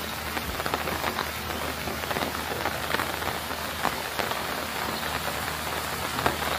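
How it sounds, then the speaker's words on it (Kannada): Heavy rain pours steadily in a monsoon downpour. It is a dense, continuous hiss of drops drumming on surfaces, with no voices and no pauses. "ಹೆವಿ ಮಳೆ ಹೊಡಿತಾ ಇದೆ, ಇನ್ನೂ ಬಿಟ್ಟಿಲ್ಲ ಮಳೆ"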